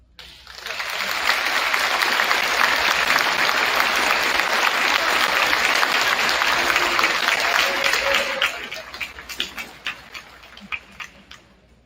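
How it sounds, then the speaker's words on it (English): An audience at a high school evening event applauds the students' families, steady dense clapping swelling quickly and holding for several seconds before thinning into scattered last claps. "Would our families present here tonight please stand and receive a round of applause"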